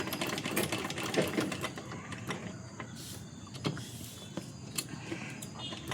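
A sewing machine stitches along paper lines during a tailoring lesson, with rapid rattling bursts of needle strokes separated by short pauses and clicks, heard close and fairly quiet with no talking.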